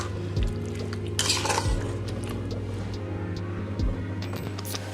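Spices being stirred into chicken in a pot for korma, a spoon scraping and knocking against the metal pot in several close clanks over a low steady kitchen hum.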